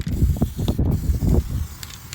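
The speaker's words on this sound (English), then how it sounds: "I love spray paint." A spray paint can sprays onto a $30 dresser in a series of short, close hissing bursts with brief pauses between them.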